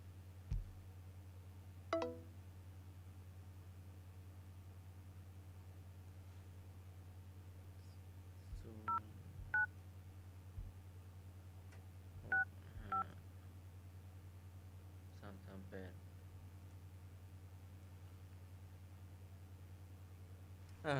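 Telephone keypad dialing tones sound in brief separate bursts, a few at the start and then small clusters, over a steady low mains hum with no voices.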